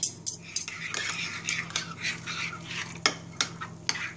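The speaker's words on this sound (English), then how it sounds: "I'm just going to stir that through" A spoon works grated cheese through a pie filling with caramelized onions nearby, giving repeated soft scraping and clinking strokes against the bowl at an uneven rhythm, close and fairly quiet.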